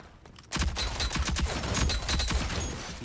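Rapid bursts of gunfire crackle through a competitive shooter video game match, a dense fusillade of overlapping shots that starts abruptly after a brief quiet moment and continues steadily, loud and close.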